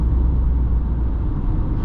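Inside a car with a 3-cylinder 1-liter engine climbing uphill, a loud, steady low engine rumble with road noise runs throughout, with no voices.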